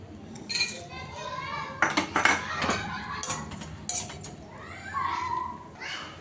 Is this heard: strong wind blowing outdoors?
no